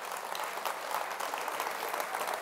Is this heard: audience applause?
yes